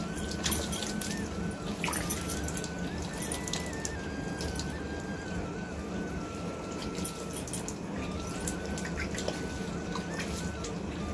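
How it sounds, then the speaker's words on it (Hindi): Water poured steadily onto newly planted chrysanthemums in a home garden, a continuous close splashing and trickling that runs unbroken throughout with no talk. "अभी इसमें पानी दे देते हैं। इसमें पानी हम थोड़ा थोड़ा करके दे देंगे।"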